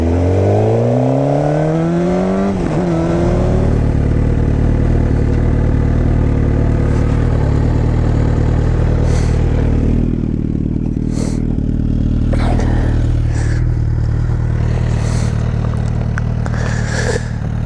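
Suzuki GSX-R sport motorcycle ridden through snow, its engine droning loud and steady throughout, with a rising rev sweep at the start before settling into a constant drone.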